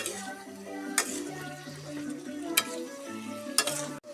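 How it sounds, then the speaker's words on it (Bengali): Mutton being sautéed in a pan for a kosha-style goat curry with garlic, a steady close sizzle with spoon scrapes and stirring clinks at a few points, under a continuous musical background. "এই যে মাংস কষানো হচ্ছে।"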